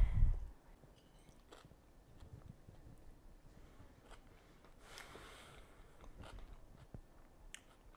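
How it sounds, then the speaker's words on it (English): Chewing on a bite of the salmon layer of a vintage Betty Crocker party sandwich loaf, with soft close-up mouth sounds and quiet crunching over several seconds after an initial thump. "I'm gonna start with the salmon layer."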